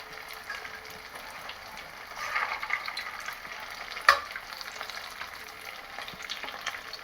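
Vegetable bread balls fry in oil over a low flame, giving a soft, steady sizzle with occasional stirring clinks and one sharper scrape in the middle.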